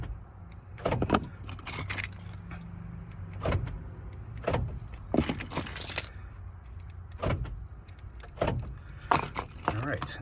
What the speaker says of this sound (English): you should hear the key lock or the door locks actuate